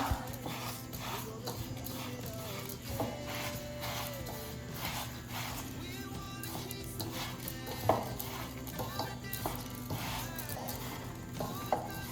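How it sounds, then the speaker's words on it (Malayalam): A sesame mixture with grated coconut and jaggery is stirred for sesame balls, with quiet, repeated scraping and clinking of a utensil against the pan and occasional sharper knocks. "നമ്മുടെ തേങ്ങയും ശർക്കരയും ഇതിൻ്റെ മുകളിലേക്ക് ഇങ്ങനെ ഇട്ട് കൊടുത്തതിന് ശേഷം നന്നായിട്ട് ഇളക്കണം"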